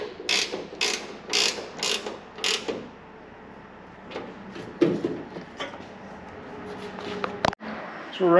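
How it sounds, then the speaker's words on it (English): A 7/16 wrench snugs down the bolts on a freshly painted trunk lid. A close burst of rapid ratcheting clicks is followed by scattered metallic clicks and handling noise. "7/16 wrench, we'll just snug them down just a little bit and we'll be ready to go."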